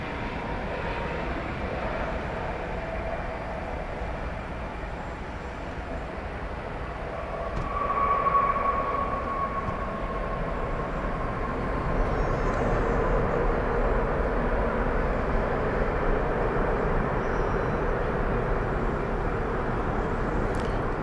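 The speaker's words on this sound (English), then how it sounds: "So that ends a exactly 13-hour trip from Taipei on that Dash 9 Dreamliner, 7-year-old plane." A Boeing 787-9 Dreamliner, seven years old, arrives at DFW Airport after a 13-hour flight from Taipei, heard as a broad, steady engine roar from a distance that swells slightly partway through and then holds.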